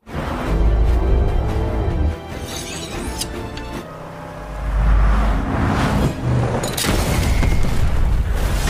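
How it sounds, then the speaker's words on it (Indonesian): A car explodes on a landmine in a film action scene: loud booming blasts and crashing rumbles, a heavy low explosion surging midway, with debris and chaotic noise continuing throughout. "salah satu mobil meledak terkena ranjau yang sebelumnya sudah ditebar oleh Om Rambo"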